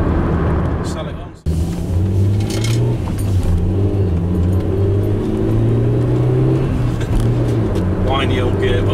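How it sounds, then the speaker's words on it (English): An old Nissan Sunny drives along with a steady engine drone and a whining gearbox tone that rises and falls in pitch, heard close up inside the cabin. "Whiny old gearbox."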